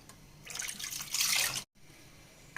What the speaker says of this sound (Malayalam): ഇപ്പം നമുക്ക് ഇതിലേക്ക് വെള്ളം ഒഴിച്ച് കൊടുക്കാം